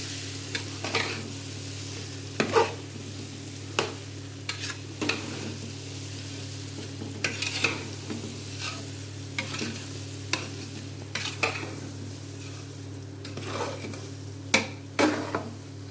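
Suji halwa mixture stirred in a pan, the spoon scraping in a steady run of soft strokes with occasional sharper clinks against the metal over a faint low hum. No one speaks.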